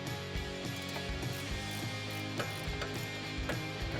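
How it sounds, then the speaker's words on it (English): An 18mm ratcheting wrench clicks steadily and close up while backing out rear upper control arm bolts on a 2015-2019 Ford Mustang, a fast continuous ratcheting with no talk. "This is an 18mm ratcheting wrench."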